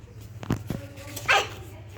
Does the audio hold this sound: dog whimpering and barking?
yes